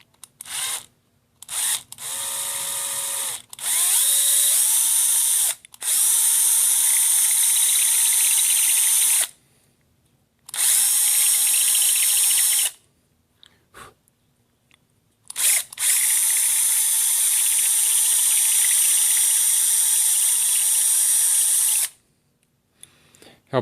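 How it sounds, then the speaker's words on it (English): Power drill boring the outer air hole of a Kawasaki Vulcan 800 carburetor with a dull bit, loud whining bursts starting and stopping several times, close by, with short quiet gaps between runs. "you're drilling the outside hole, not the inside hole"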